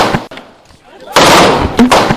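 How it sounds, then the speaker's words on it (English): Gunshot at the scene of Atiq Ahmed's shooting: sharp loud bangs, one early and a burst later, amid crowd noise and voices. "moments later, there was gunshot"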